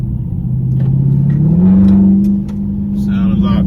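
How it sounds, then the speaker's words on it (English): A car with a mid muffler delete revs up close by, its exhaust tone climbing and holding a raised drone before dropping back, with a few brief pops and a voice speaking over it. "As y'all hear, I did get the muffler delete."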